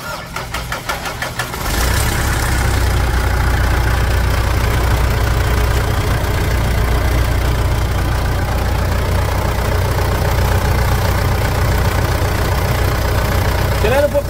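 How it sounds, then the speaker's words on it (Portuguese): A Mitsubishi Pajero Dakar 3.2 engine cranks briefly, then catches and settles into a loud, steady idle with a low rumble and slight knocking clatter, close by; a voice speaks over it. "Vamos dar partida e vocês vão escutar o funcionamento desse motor agora."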